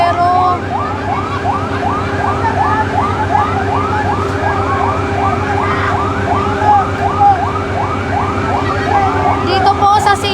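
A fire truck siren wails in a steady repeating rise-and-fall cycle, loud and close, with a constant engine rumble beneath it at a residential street fire in Las Piñas City.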